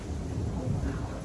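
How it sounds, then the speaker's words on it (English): Heavy rain and thunder outside, heard from indoors as a low, muffled rumble with a steady wash of rain, fairly quiet and brief. "Sorry about the rain. It is raining hard outside."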